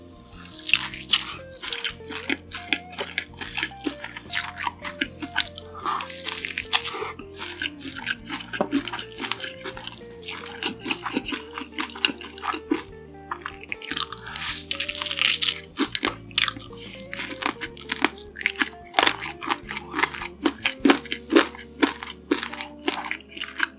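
Homemade Cheetos-coated fried chicken is bitten and chewed close to the mic, a long run of sharp crunchy bites and crackles in irregular bursts, with wet chewing between them and no talk.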